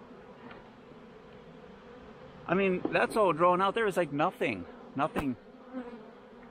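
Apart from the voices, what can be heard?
honey bees at the hive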